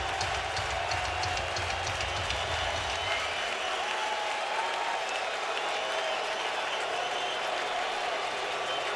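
A huge crowd of about 55,000 baseball fans on their feet at Dodger Stadium during a 2013 NLCS game, a sustained roar of cheering and clapping that stays loud and steady throughout.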